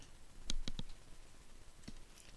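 A computer mouse clicks in quiet room tone, a quick triple run of sharp clicks followed by one more isolated click a moment later, close and crisp while working in Photoshop CS5.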